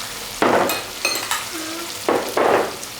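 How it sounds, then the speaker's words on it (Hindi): Red chili, black pepper, cumin and coriander fry with beef in a karahi, a close steady sizzle broken by several bursts of stirring and scraping against the pan. "इसको हम अच्छे से भून लेंगे।"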